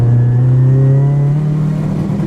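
Nissan S15 Silvia engine pulling hard at full throttle, a loud steady drone that climbs slowly in pitch, heard close and alone with no talk.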